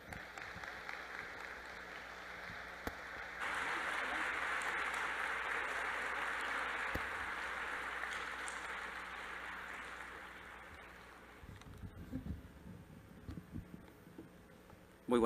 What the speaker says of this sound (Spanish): Le damos un fuerte aplauso para recibirlo.